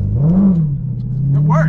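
A Dodge Challenger Hellcat Redeye on launch control holds a steady, loud, close engine idle-rev that climbs briefly then settles at a held rpm, with a short higher whine at the end.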